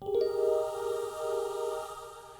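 A layered synth pad on a Roland FA-series keyboard, with a St. Choir patch, holds one long, smooth choir-like chord that swells slightly and stays steady throughout, with no talking.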